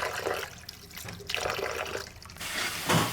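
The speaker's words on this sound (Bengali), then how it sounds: "এখন আমি এই লাউ পাতা শাকটা ধুয়ে নিচ্ছি।" Water running over bottle gourd leaves being rinsed, uneven splashing and trickling from a tap that swells and dips in bursts, growing louder near the end, close by and with no voices.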